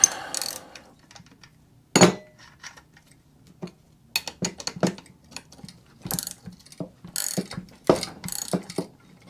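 Ratchet clicking in short bursts while a nut is tightened on the shaft of a bench grinder being converted to a wire wheel, close and crisp, with pauses between strokes.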